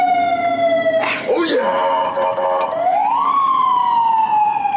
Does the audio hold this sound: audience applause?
no